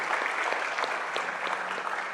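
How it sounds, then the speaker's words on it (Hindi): Church congregation applauding their pastor, a steady dense wash of clapping from many hands indoors, evenly loud throughout with a faint murmur of voices beneath. "जोरदार तालियां पास्टर नीता के लिए,"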